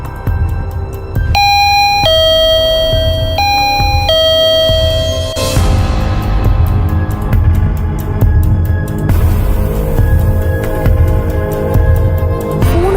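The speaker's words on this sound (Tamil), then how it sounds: "காலையில இருந்து காலிங் பெல் தானாவே 3 தடவை அடிச்சிச்சு" A home calling bell chimes its electronic ding-dong melody loudly and close by, rings through twice, then gives way to other household sounds.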